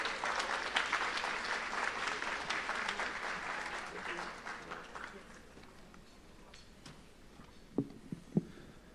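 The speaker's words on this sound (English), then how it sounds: "Please give him a round of applause" Audience applause fills the room at an awards gala for the Haitian community in the USA, starting thick and loud, then thinning and fading out over several seconds, with a couple of isolated claps near the end.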